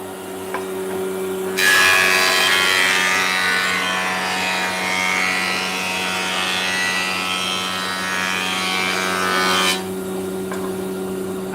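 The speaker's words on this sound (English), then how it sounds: "If you're wondering why I'm just using one side of the planer" Electric planer running through a piece of wood, one side of its blade nicked by a nail, a steady loud whirring cut of about eight seconds with a sharp onset and cutoff over a low background hum.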